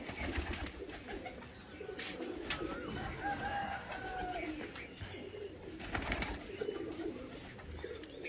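Pigeons coo on a rooftop at an early-morning pigeon-flying contest, soft and continuous beneath a noisy outdoor background with occasional brighter bird calls.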